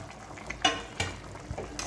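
Fried potatoes are dropped into a simmering drumstick curry and stirred, giving a few sharp spoon-against-pot clacks over a soft bubbling sizzle, close and brief.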